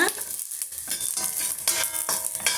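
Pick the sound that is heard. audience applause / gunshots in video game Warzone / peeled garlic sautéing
peeled garlic sautéing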